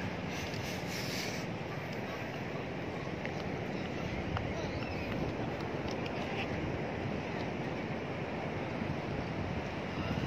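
Ocean surf at the far end of a beach rushes steadily with broadband wash and wind buffeting the microphone, faint and continuous, with no clear talk.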